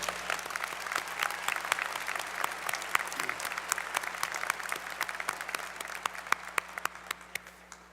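University commencement crowd applauding, a sustained wash of many hands clapping with sharp individual claps standing out, easing off toward the end.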